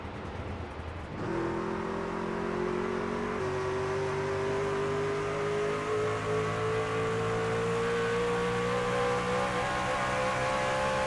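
A race truck in the SimPulse Legacy Truck Series sim race has its engine cut back for the corners, holding a steady droning engine tone with a slowly rising pitch after an abrupt start, with no talk.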